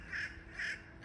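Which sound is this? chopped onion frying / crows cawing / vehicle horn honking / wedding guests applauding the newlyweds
crows cawing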